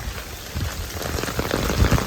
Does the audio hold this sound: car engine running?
no